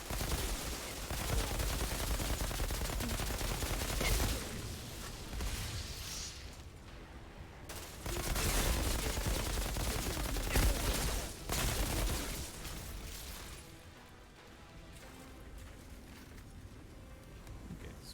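Shotgun blasts and other gunfire from the Outriders video game, dense, loud overlapping bursts continuing throughout with brief lulls, no talking.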